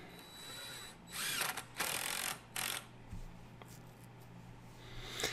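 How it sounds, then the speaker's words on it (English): A power drill whirs in several short bursts driving a screw into wood for a kid-sized Adirondack chair, close by, with quiet pauses and small clicks between the runs. "And put that screw in."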